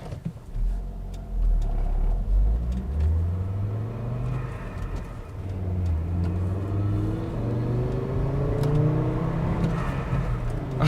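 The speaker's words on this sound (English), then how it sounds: "I really have missed the 5-cylinder soundtrack from my S60R. It's really just a heavenly noise to me." A Volvo V70 T5 wagon with a manual gearbox pulls hard from inside the cabin, its five-cylinder turbo engine rising through the revs in two climbing sweeps with a deep, continuous rumble.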